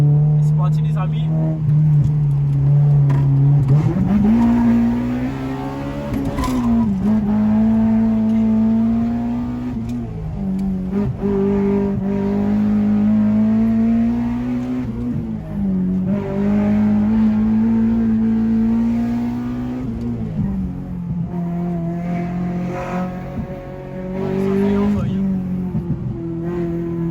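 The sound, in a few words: car launch control revving with flames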